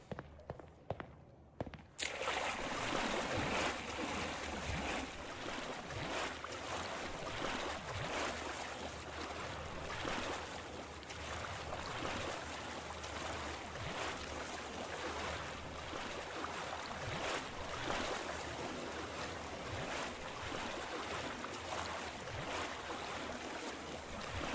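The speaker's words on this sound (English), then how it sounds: "The sloshy water sound effects are just the best." Water sloshes continuously in the liminal pool game POOLS, a steady close wash of surf-like splashing and churning that runs almost the whole time after a short quieter start.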